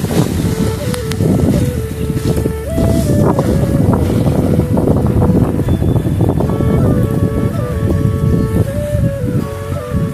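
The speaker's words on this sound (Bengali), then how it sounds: "তো দেখেন ডাব গাছগুলা কেমনে বাতাসের ঝড় উঠতেছে।" A strong storm wind roars through coconut trees beside a river, loud and continuous, with heavy gusts buffeting the microphone the whole time.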